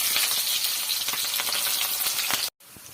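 Onions frying with whole garam masala in hot oil with a loud, close, continuous sizzle and scattered crackles, briefly cutting out near the end before resuming.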